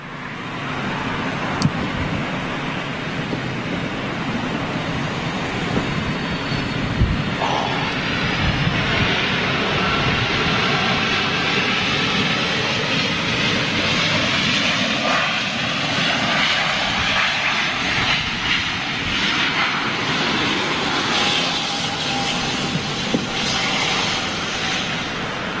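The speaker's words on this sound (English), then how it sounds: "GENX engines on this 747-8." A Boeing 747-8 jet with GEnx engines roars steadily throughout, a broad sustained engine rumble and whine that holds loud and constant with no voices over it.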